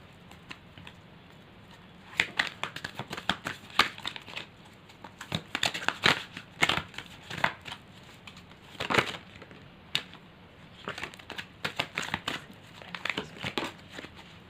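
Tarot cards shuffled by hand, a quiet stream of irregular crisp riffles, flicks and soft slaps that come in bursts, close and without talk.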